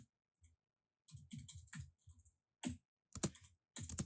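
Bursts of computer keyboard typing come in quick irregular clusters of clicks with short pauses between them, close and moderately loud, with no talking.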